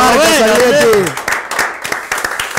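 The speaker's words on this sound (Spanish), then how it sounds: "Y aplaudimos al señor" Someone speaks briefly, then scattered claps ring out from an audience at a basketball league event, sparse and uneven rather than a full ovation.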